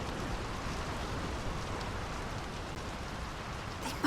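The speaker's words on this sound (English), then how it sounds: "The rain's picking up." Steady rain falling in the video game Draugen, a constant soft hiss of drops spread evenly throughout, fairly quiet and with no voices.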